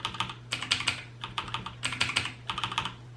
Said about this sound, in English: That noise you're hearing is just the key hitting the bottom.